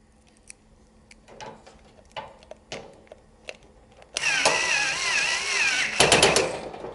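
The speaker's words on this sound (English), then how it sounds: "and last screw in there, nice and secure" A few scattered clicks and taps from fitting screws into the legs of a Heat Outdoors Athena Plus patio heater give way to a loud, sustained whirring burst, like a powered screwdriver driving a screw home, close up.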